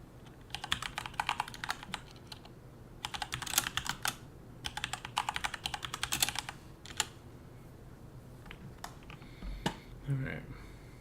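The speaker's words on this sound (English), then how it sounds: "Sorry about all the typing." Close, rapid clatter of typing on a computer keyboard comes in several bursts of quick keystrokes, with isolated key clicks between them and at the end.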